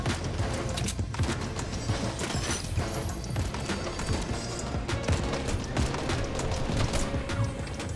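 Dense, continuous Fortnite gunfire during a Zero Build duos fight, rapid overlapping shots and impacts packed into a loud, busy mix with game effects throughout.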